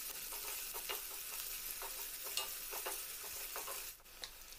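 Curry leaves crackle and sizzle in hot oil for a sprouted green gram and masoor dal palya, a steady close frying hiss broken by sharp spitting pops, with no voices.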